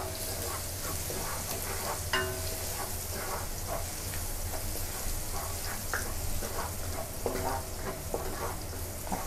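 A large amount of garlic sizzles and crackles in a very hot wok, frying steadily at close range as a spatula stirs it now and then, with no voices over the cooking.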